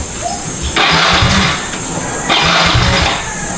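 A motorcycle engine starts up near a roadside spot beside an animal bite clinic, bursting into two loud revving surges of engine noise separated by a settling idle, with no talk over it.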